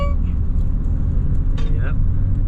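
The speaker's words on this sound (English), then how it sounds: "here we go, guys. We're driving!" A van driving on the road gives a steady, close, low engine and road rumble throughout, with voices talking over it.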